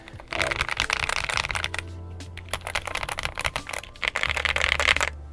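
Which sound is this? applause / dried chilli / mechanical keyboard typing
mechanical keyboard typing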